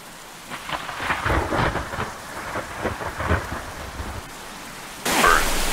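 Thunder rumbles over steady heavy rain during a storm in the Roblox game Twisted, the downpour swelling into a louder, harsher rush near the end.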